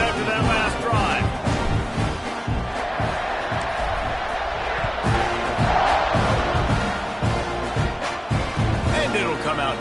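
Stadium crowd in the college football video game NCAA 26 roars steadily through a kickoff, a dense continuous wash of cheering and chanting at fairly loud, even level with scattered louder swells.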